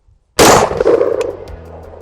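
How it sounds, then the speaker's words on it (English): A single loud, close gunshot from a firearm loaded with frangible ammunition fired into a frozen turkey, with a sharp crack followed by a ringing decay and faint clatter, outdoors with no talk. "So I'm gonna shoot towards the right side of the turkey this time."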